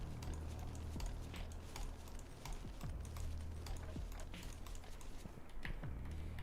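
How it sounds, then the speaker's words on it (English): Rapid computer mouse clicking while playing White Knuckle, a jump puzzle game, comes as quick irregular clicks and taps close to the mic over a steady low hum, with no voice. "You guys can probably hear me clicking the fuck out of my mouse."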